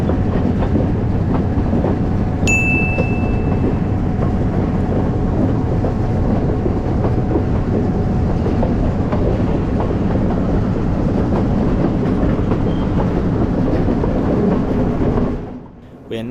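Rail cars rumble and clatter loudly and without a break as a Sri Lankan sleeper train bound for Colombo runs along the tracks near Ella. A short high tone sounds early, and the noise fades away at the very end.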